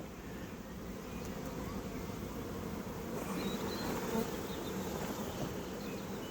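Bees swarm around a phone near a hive clustered under a roof, a dense continuous buzzing drone close to the microphone, steady and slightly rising in loudness, with no talking.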